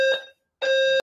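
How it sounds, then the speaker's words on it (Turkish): A dormitory fire alarm sounds in two loud, steady electronic blasts separated by a short silence, with a piercing sustained tone and strong harmonics, heard alone with no talking. "yotoqxonamda fire alarm yonib ketdi."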